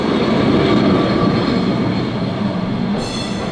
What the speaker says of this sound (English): That noisy old trams.